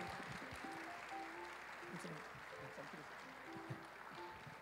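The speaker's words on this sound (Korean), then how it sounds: "박수로 맞이하겠습니다" An audience claps in a church during a Sunday evening worship testimony concert, a faint, steady patter of applause with people's voices heard over it.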